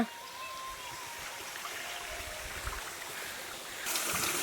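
Warm, clear water rushes steadily over a low bridge near a hilltop Shiva temple, giving a constant, close, broadband stream wash with no talk.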